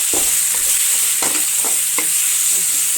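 A spoon scrapes and stirs in a sizzling pan of North Karnataka potato curry as spice powder is mixed in, with several distinct stirring strokes over a constant frying hiss.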